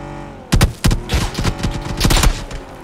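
Gunfire in the video game PUBG on the Miramar map, a rapid burst of several loud, sharp shots with a heavy thump, closely spaced and irregular, close by with no talk over it.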